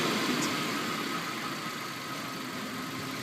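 Suzuki Vitara engine running steadily up close, a continuous mid-pitched hum with a faint whine that holds even through a few seconds of revving, no voices over it.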